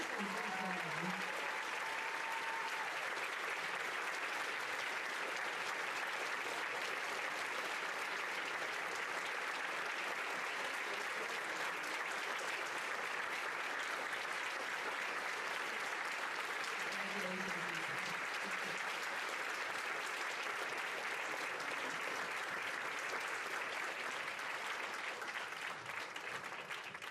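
An audience at a sixth-grade promotion ceremony applauds an award winner with long, steady, dense clapping that fills the room for nearly half a minute, heard somewhat distantly, with a few brief voices surfacing through it.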